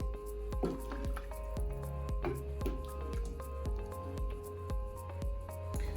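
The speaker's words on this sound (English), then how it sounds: "we're gonna give this a stir to incorporate the rice and the peas" Rice and peas being stirred in a pot for Jamaican rice and peas: wet, squishy scraping and soft drips repeat in a steady rhythm close by, with a low kitchen hum underneath and no talking.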